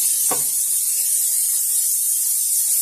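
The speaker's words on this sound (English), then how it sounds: "you just want to spray your pan" A steady, loud hiss of aerosol cooking oil sprayed onto a pan, continuous for a few seconds, with a brief soft knock near the start.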